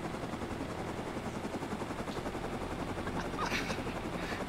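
A helicopter in the video game Rust thrums continuously with a dense, steady rotor chop, loud and close, with brief higher mechanical clanks near the end.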